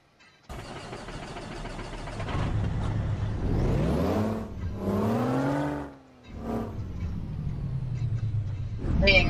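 A Cat heavy truck engine in a video game starts and revs repeatedly, pitch climbing and falling through several loud surges, with a brief dip before revving again.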